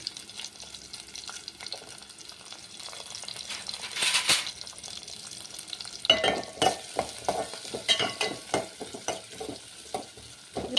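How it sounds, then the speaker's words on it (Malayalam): Shallots sizzle in hot coconut oil while a utensil stirs and scrapes the pan in repeated strokes, growing busier toward the end. "ഇനി ഞാൻ ആ കൊച്ചുള്ളി എണ്ണയിലിട്ട് വഴറ്റാൻ പോവാണ്."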